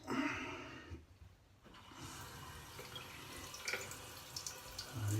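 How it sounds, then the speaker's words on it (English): A shaving brush is wetted under a running tap, water splashing and trickling close by with a brief quiet gap, then steady flow and small drips, no talking. "need to wet my brush a little bit more"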